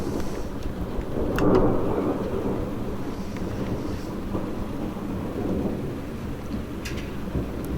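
Thunder from a June thunderstorm in north-west England rolls in a long low rumble that swells twice, with rain and wind noise throughout and no talking.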